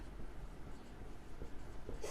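Pen scratching numbers onto paper during a maths lesson on cubes and roots, a continuous close, soft scraping with small strokes and taps, no voices.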